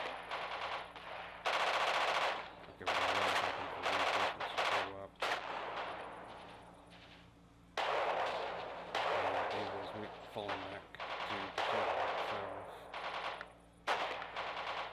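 Rapid bursts of machine-gun fire with loud volleys and brief pauses, some heavy booms mixed in, continuing throughout, in the video game Radio General at Pachino.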